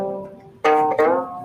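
A faint sustained bowed viola note, then two stronger bowed strokes ring out clearly, rich and resonant, close by.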